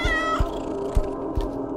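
A cat meows plainly and close in a horror-exploration video game, a clear drawn-out cry followed by a few shorter soft sounds over a steady low ambient drone.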